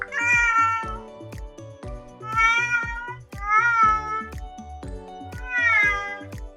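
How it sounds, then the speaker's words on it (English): Cats on a farm meow four times in long, drawn-out calls, close and loud, spaced a second or so apart with soft knocking in between. "Good morning, kitties."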